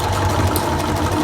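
A domestic sewing machine runs a steady seam joining patchwork cotton fabric for a four-patch block, a continuous close mechanical hum and whir with no voices.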